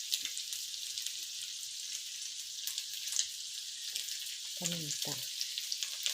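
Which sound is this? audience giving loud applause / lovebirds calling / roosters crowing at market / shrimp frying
shrimp frying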